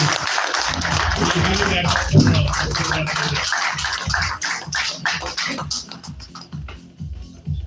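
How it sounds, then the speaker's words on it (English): Round of applause at an Indian Golf Premier League press conference, dense clapping that thins out gradually toward the end, with voices mixed in. "can you round of applause, please, for Liam Depay"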